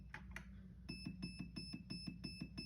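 Beeps from a Perun V2 hybrid MOSFET on an airsoft gun during a setting change: a steady high electronic tone with a rapid series of repeated short clicks or pulses in an even rhythm, close and fairly faint, no talking.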